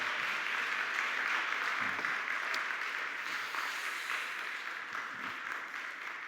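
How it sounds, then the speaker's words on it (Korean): Congregation applause during a Sunday afternoon church service, a sustained, moderately distant wash of clapping that fades slightly toward the end, with no voices over it. "우리 박수하도록 하겠습니다."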